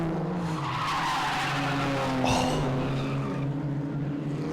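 A race car at Winton's Festival of Speed 2022 hits a puddle and rotates on the wet track, a close engine whine with pitch swings, tire noise and a sharp skid burst midway, with no talk.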